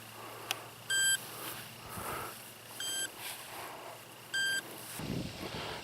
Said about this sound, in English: This thing seems to just be beeping randomly